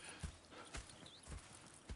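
Horse hooves clip-clop at a walking pace in a Red Dead Redemption 2 camp, soft, fairly distant irregular thuds at a low level with faint ambience behind.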